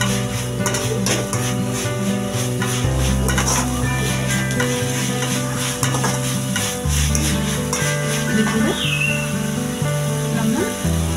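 Onions or masala for chicken biryani sauté in a pan with steady sizzling and frequent scraping stirs of a utensil, continuous and close throughout.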